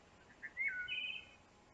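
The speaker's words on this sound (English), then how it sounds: "You can hear the birds singing" A single bird gives a brief, faint chirping whistle, rising and sliding for about a second against a quiet, calm meadow backdrop.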